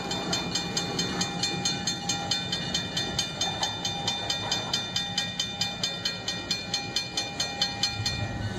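SW1200 RS switcher locomotive on the Black River and Western, a steady rhythmic clickety-clack of wheels over rail joints at an even pace, with a sustained engine drone underneath.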